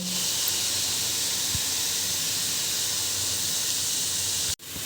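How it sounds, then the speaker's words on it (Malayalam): Madurai seva, a sweet Kerala snack, frying in hot oil gives a steady, loud hiss with a faint bubbling crackle underneath, cut off abruptly near the end. "ഇനി അടുത്തത് ഞാൻ ഇതേപോലെ ഫ്രൈ ചെയ്തെടുക്കുന്നുണ്ട്"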